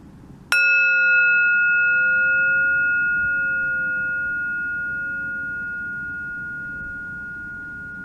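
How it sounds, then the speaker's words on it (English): A single strike on a singing bowl, then a pure ringing tone that lingers and slowly fades over several seconds against faint background hiss. "I'm going to strike the singing bowl,"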